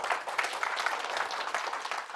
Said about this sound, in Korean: 그러면 힘찬 박수를 부탁드립니다.